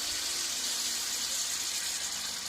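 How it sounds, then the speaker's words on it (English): Hot water pours steadily into a pot of Jamaican curry fish in coconut milk, a continuous close splashing rush with no break. "I'm gonna pour like about 2 cups of hot water."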